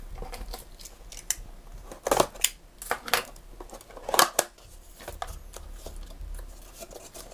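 Cardboard and plastic packaging of a GoPro MAX dual battery charger being opened, with scattered crinkles, then louder tearing and rustling bursts in the middle, close up and without talk.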